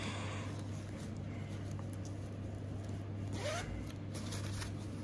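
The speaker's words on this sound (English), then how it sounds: "a pocket that you can zip up and down or across in this." A zipper on a pocket of an ELECOM tech pouch is pulled, giving a quiet, close zipping run of a second or so against a faint steady hum, with no speech.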